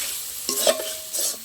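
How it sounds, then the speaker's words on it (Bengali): Close, loud stirring of a poppy seed spice paste in a pan, with scraping strokes in two bursts over a soft frying hiss, and no voices. "এবার মশলাটা ভালো করে একটু কষিয়ে নেবো আমি।"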